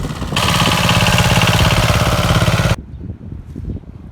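A small walk-behind tractor engine, a Forte 10 hp, runs loudly with a steady, rapid chugging throb, then cuts off abruptly, leaving faint outdoor background noise.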